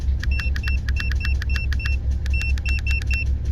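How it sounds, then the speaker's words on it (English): Rapid short electronic beeps in quick clusters, like keypad presses, from an OBDII and battery health tester's key beep, over a steady low engine hum. "Key beep."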